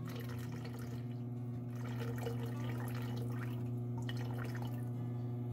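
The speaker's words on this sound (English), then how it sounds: "I'm just using regular tap water." Tap water runs steadily into a pitcher at moderate distance, a continuous splashing stream with light drips over a low background hum, and no one speaks.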